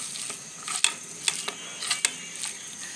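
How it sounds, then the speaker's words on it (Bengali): Bare hands squish and mix fish with onions for a fish chochchori, making soft wet slaps and a few sharper clicks at an uneven pace, close and fairly quiet. "সুন্দর করে এই যে আমি মাখাচ্ছি"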